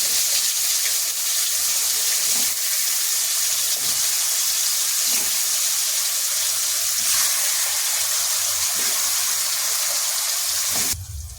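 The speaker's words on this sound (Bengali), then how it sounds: "আমি মাছ ভাজা তেলের ভিতরেই কচুটা ভেজে নিচ্ছি" Taro pieces frying in a pan of oil left over from frying fish, a steady, close, hissing sizzle that holds evenly throughout with no talk.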